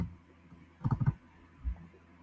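A few quick mouse clicks on an on-screen Go button in financial accounting software, a short tight cluster of soft near clicks followed by one more a moment later, in a quiet room.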